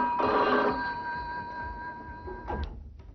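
A household telephone rings loudly and alone with a steady electronic trill that breaks off partway, followed by a short clack like a door or handset in a domestic Egyptian drama scene.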